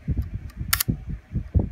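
Shutter release of an ARCO35 vintage film camera, a single crisp mechanical click near the middle, heard close and faint amid quiet room noise and low handling sounds.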